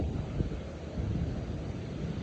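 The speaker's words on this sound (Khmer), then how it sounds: "វាអត់មានភ្លៀងទេខ្យល់ខ្លាំង" Strong storm wind without rain gusts across an open rice field, a steady low rushing and buffeting with a few stronger surges and no voices.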